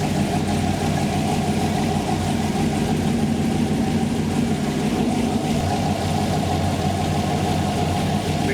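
LT-swapped Trans Am with a 6L80E transmission idling steadily, a continuous close rumbling engine drone that stays even throughout with no talking.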